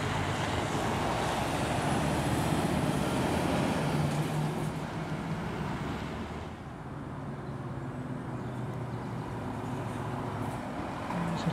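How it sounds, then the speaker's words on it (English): A Scania truck hauling a refrigerated container drives past on the A14 at Rothwell, a loud steady roar of engine and tyres that swells and then fades slightly as it passes, with no voices. "It's a Turner's Scania obviously, and it's got a refrigerated CMA container on the back."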